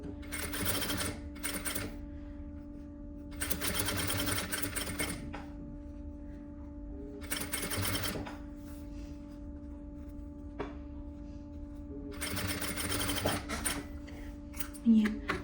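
Sewing machine joining vest lining pieces with a 1 cm seam, three separate bursts of rapid stitching with quiet pauses and a steady low hum between them, close by.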